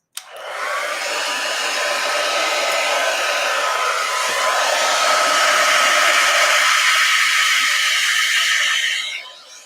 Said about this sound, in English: I think that's about as much as we're going to get with the hair dryer